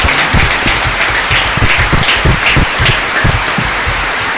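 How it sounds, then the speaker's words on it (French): An audience applauds a laureate at a school event at Collège Notre-Dame du Bon Conseil in Lingwala, Kinshasa, with steady, dense, loud clapping that lasts throughout and no talk over it. "On peut acclamer fortement"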